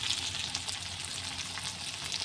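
Bread frying in a pan after onion, green chilli, salt and turmeric have gone in, giving a steady close sizzle and crackle throughout with no voices.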